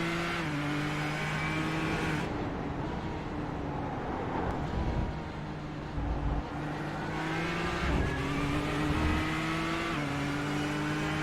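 Onboard race car engine lapping Twin Ring Motegi's middle sector and under the oval in a GT racing video game, a loud steady drone rising and falling through gear changes, heard alone without talk.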